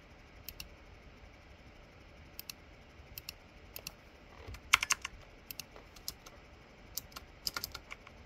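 Someone types on a computer keyboard, pressing backspace, with sparse crisp key clicks and a few quick bursts of taps over a faint room hum.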